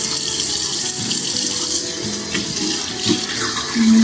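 Tap water running steadily into a sink while baby bottles are washed, a close continuous splashing hiss with occasional clinks and bumps of the bottles.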